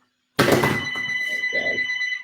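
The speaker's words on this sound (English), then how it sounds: "Naturally, the phone's ringing, so let's take that off." A telephone rings in a home kitchen during a cooking demonstration. It is a steady, bright electronic ring that starts abruptly and sounds fairly close, heard alone with no talking.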